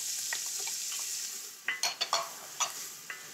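Carrots added to a hot pan with pancetta and onions for braised short ribs, a soft steady sizzle under a few quick clattering stirs of a utensil against the pan near the end, fairly quiet.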